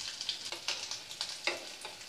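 Egg pakoras sizzle in hot oil in a pan, a steady crackling fry with sharp popping bursts spread through the moment, close and fairly loud, with no talking.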